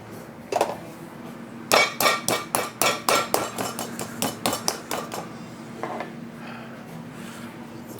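Chicken breasts pounded flat on a board, a fast run of about a dozen sharp, hard thuds close by, with a couple of isolated knocks before and a few fainter ones after, no talk.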